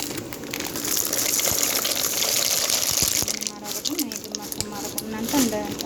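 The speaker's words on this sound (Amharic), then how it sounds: "አሁን መኮረኒውን እናደርጋለን። ውሃ ፈልቷል።" Macaroni added to a pot of boiling water, heard as a rushing, gushing bubble with splashes, under a voice talking nearby.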